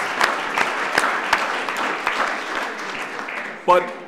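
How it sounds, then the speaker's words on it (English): A crowd claps continuously in a warm, scattered round of applause, with a voice briefly cutting in near the end. "So I'd ask everybody if you could give a round of applause to Ms. Jacobs."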